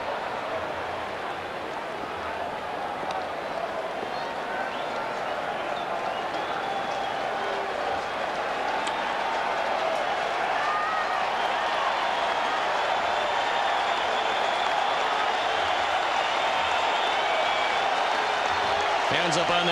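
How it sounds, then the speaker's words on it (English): A packed baseball crowd at Wrigley Field on its feet, cheering and clapping in the ninth inning of a Cincinnati Reds at Chicago Cubs game, a steady dense roar that swells slightly over about twenty seconds while a commentator talks over it. "Crowd on its feet."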